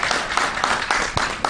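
An audience at an award ceremony for a health and environment event applauds in a brief, loud burst of steady clapping.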